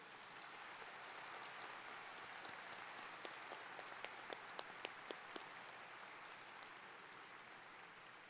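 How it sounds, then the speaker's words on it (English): An audience applauds at the 2026 Springboro Schools commencement, a faint, distant wash of clapping from a large crowd. A few sharper individual claps stand out midway. "Please give a round of applause for all of our special guests."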